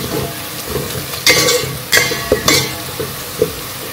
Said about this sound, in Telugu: కొంచెం ఆనియన్స్ మగ్గుతున్నాయి